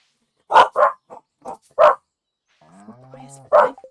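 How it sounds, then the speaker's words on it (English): Dogs bark in a handful of short, sharp bursts with brief pauses between them, close by, followed by a softer whining, tonal sound before one final bark. "sorry if you hear my dogs woofing"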